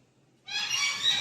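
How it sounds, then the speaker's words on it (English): A bird gives one sustained, loud honking call up close, starting abruptly after near silence and holding steady to the end, in a goose-like or fowl-like tone. "Ignore that bird."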